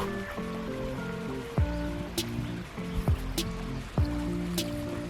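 A small, nearly dry cascade at Sidi Mbarek in Morocco trickles softly, a faint steady burble of thin water running over rock with a few brief knocks, no voices over it.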